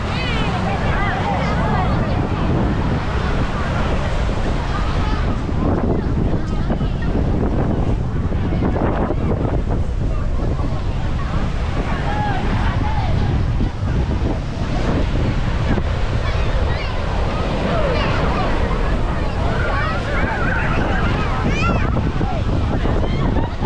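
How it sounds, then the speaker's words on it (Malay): Ocean surf surging up a beach at Dungun during high tide, a steady loud wash of breaking waves with wind buffeting the microphone throughout. "Boleh tengok air ombak sampai ke atas ni."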